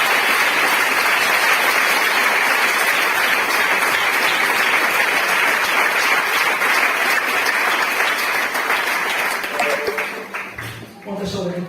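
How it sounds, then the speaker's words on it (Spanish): A church congregation gives loud, sustained applause in praise of Jesus, a dense steady roar of many clapping hands that carries on for about ten seconds before thinning out near the end. "Dale un fuerte aplauso a Él"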